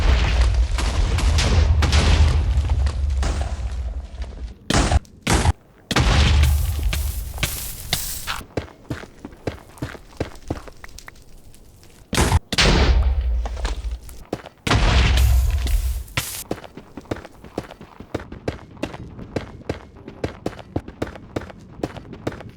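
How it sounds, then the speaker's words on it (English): Repeated deep booming blasts of TNT exploding in Minecraft's Nether, several in succession, separated by stretches of rapid crunching and clicking, with no voices. "I went to the Nether and did multiple explosions"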